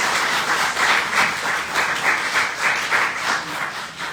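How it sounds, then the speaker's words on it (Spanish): Church congregation applauding to welcome visiting guests, a steady wash of many hands clapping at close range for about four seconds, loud and continuous with gentle swells. "Vamos a darles un fuerte aplauso a los hermanos."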